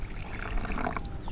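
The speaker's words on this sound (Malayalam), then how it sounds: "അപ്പോൾ നമുക്ക് ഇനി ആവശ്യത്തിന് വെള്ളം ഒഴിച്ചിട്ട്" Water is poured into salted dough for a Malayalam-style parda chicken biryani, a brief close trickle and splash lasting just over a second, with no talking.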